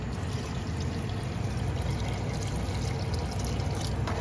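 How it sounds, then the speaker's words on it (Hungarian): Hot water pours into a cooking pot in a home kitchen, a dense, continuous rushing splash that stays loud and even throughout, with no talking. "És forró vízzel fogom felönteni"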